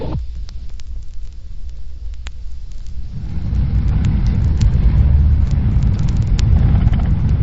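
A 1957 police car on patrol, its engine rumbling low inside the cabin, quieter at first and then swelling into a louder, steady drone, with scattered clicks and no talk.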